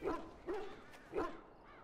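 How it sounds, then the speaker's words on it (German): Dogs bark in the video game Dragon Age: Origins, three short woofs at a moderate distance over quiet ambience. "Hey, hier sind Hunde."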